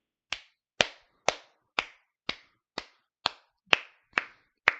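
A single person claps slowly and deliberately, about ten crisp, isolated slaps spaced roughly half a second apart, close and loud against silence, with no talking.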